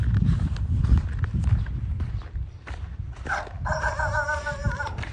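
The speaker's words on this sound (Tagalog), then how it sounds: "Kaya yung kakahulan ako ng mga aso dito." Dogs bark in a few sharp bursts amid shuffling, thumping movement nearby, with some faint voice in the background.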